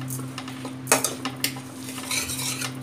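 A metal spoon scrapes and clinks against a pan while masala fries in ghee for khoya matar, with a low steady hum behind the irregular stirring taps and no talking.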